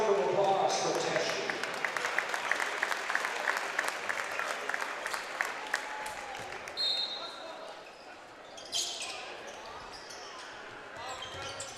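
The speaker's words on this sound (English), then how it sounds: "How about a nice round of applause for Tesh?" A high-school basketball crowd in a gym applauds for an injured player, sustained clapping for several seconds that gradually thins out. A few squeaks and bounces follow, and a commentator talks over it.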